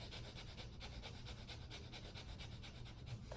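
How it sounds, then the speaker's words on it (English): Rapid pumping breaths forced through the nose in a breath-of-fire exercise, a steady run of quick rhythmic huffs, about five per second, close and fairly soft. "breathing technique you do through your nose, and it goes something like this"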